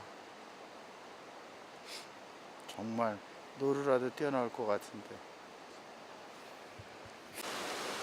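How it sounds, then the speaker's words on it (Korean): Upper falls at Johnston Canyon near Banff give a steady, even rush of falling water throughout, with someone speaking briefly over it midway. "폭포입니다. 위에 있는 폭포죠."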